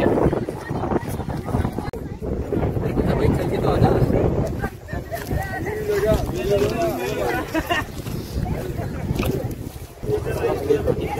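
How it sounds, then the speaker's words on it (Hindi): Wind blowing during a jungle safari, a steady broad rush of wind noise buffeting the microphone throughout, loud and close, with people talking over it. "अभी तो अच्छी हवा चल रही है, मस्त हवा चल रही है"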